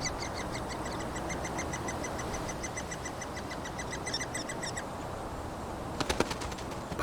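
A mother great tit carrying food flutters at her nest in a pear-tree hole left by woodpeckers, giving a brief burst of close wingbeats near the end, while thin, rapid chirps from the nestlings repeat steadily underneath.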